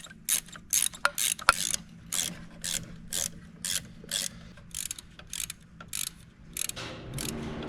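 Ratchet wrench tightening vacuum lines on a 1962 Impala engine, about a dozen quick, close clicking bursts in a steady rhythm, each a short run of pawl clicks, with no one talking.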